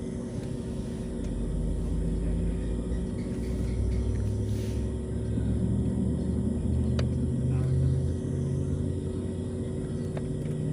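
A steady low engine rumble drones on throughout as an airplane taxis slowly along the runway, with a faint hum above it.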